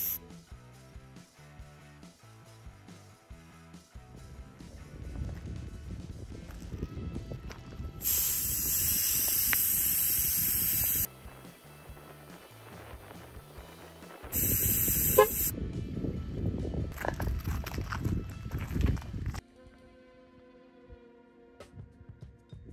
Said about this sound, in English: we'll release air pressure out of here slowly until the horn honks again